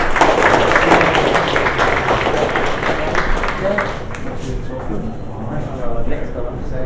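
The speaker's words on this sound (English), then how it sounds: "Round of applause, please, folks." A roomful of people clapping for a junior team at a youth hackathon show-and-tell, a dense, even burst of applause that fills the space and slowly thins out.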